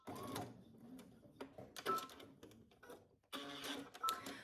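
A sewing machine stitches a 5/8-inch shoulder seam with a back stitch, running in several quick mechanical bursts separated by brief pauses, close and fairly loud.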